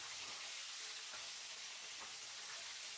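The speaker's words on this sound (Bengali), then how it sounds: "চলো মাছগুলো ভাজা হোক" Rohu fish pieces frying in hot oil give a steady, dense sizzle and crackle, close up and unbroken for the whole stretch, with no voices.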